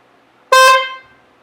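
A single loud, short honk from a repaired Porsche 911 horn blares close by for about half a second, then cuts off, leaving near silence.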